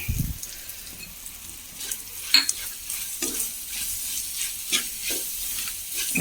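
Grated coconut and chillies fry in a pan for a jackfruit thoran, giving a steady sizzle and hiss broken by several sharp stirring scrapes.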